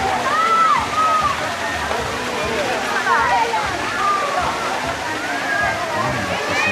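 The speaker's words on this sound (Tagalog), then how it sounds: "Ayun talaga malakas ang tubig galing doon." Strong, cold spring water gushes and splashes where a crowd of people is bathing. A continuous loud rush runs under chatter and bright voices.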